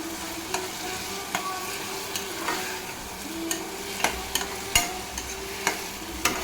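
Curry leaves frying in a pan for a split chickpea, tomato and onion masala, giving a steady low sizzle with scattered sharp crackles and pops throughout, no voices.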